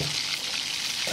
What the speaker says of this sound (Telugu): తాలింపు గింజలు వేసుకొని చక్కగా ఇప్పుడు దాన్ని తిరుగుమాతలో వేయాలన్నమాట